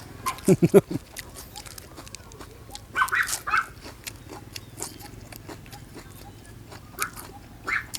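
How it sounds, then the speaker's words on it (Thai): A dog outdoors gives a short burst of loud, close barks, then a higher yelping bark a few seconds later, over a quiet rural background hum with scattered small clicks. "หมาโห มีไว้ก็ดีจริงๆเนาะพี่น้องเนาะ"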